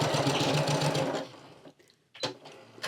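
A sewing machine stitches across the end of a fabric tube for a scrunchie lanyard. The motor buzzes steadily and loudly for about a second, stops, and then a short burst of mechanical noise follows.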